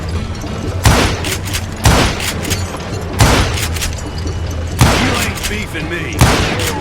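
Gunshots in the Western shooter Call of Juarez Gunslinger: about five loud, booming shots spaced roughly a second apart over a constant background rumble, with a voice speaking briefly among them.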